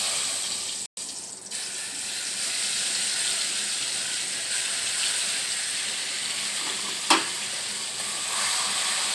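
A spice paste fries in a pan, giving a steady hissing sizzle with occasional stirring scrapes and one sharp clatter near the end, close and continuous, no speech.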